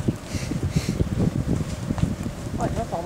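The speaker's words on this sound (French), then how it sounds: "Ouais, là, par moment, le vent." Gusty wind buffets the microphone in low rumbling bursts while people talk nearby.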